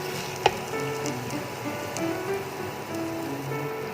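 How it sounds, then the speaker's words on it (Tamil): Gongura leaves for pickle sauté in plenty of oil, giving a soft continuous sizzle and crackle with faint stirring, fairly quiet throughout and with no talking over it. "இதை நல்லா எண்ணெய் மிதக்கிற அளவுக்கு நம்ம எண்ணெய் விட்டு நல்லா வதக்கணும்"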